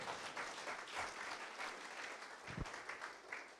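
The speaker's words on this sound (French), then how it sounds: "on applaudit le Seigneur" A church congregation applauding, heard as dense, continuous clapping of moderate loudness that fills the space, with no talking.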